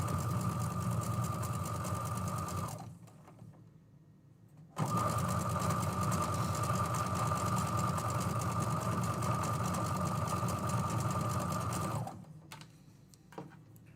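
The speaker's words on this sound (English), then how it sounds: "this straight stitch sewing with these longer pieces, it's just so satisfying" Steady whirring of a sewing machine running a long straight quilting stitch on lengthy fabric strips, loud and close, with a brief pause partway through before it resumes and then slows near the end.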